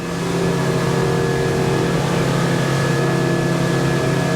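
Twin 200HP Yamaha outboard engines push a plate boat along at speed, a loud, steady mid-pitched drone holding constant throughout with no talk over it.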